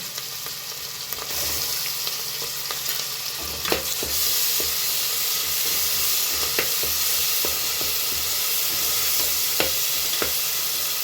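Ginger garlic paste sizzles steadily in a hot pan for egg biryani, a continuous close hiss dotted with sharp clicks of a spoon stirring, with no one speaking.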